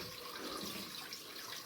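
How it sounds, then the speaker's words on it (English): Hot shower water runs steadily in a bed-and-breakfast bathroom in Great Yarmouth, a soft continuous hiss and spatter, faint and close, with no talk. "let me just demonstrate the shower here"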